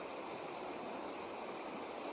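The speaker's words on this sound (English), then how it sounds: "that's a pretty awesome waterfall right there" A waterfall beside a trout-fishing spot sends a steady, dense roar of rushing water that fills the whole stretch evenly, with no break or voices.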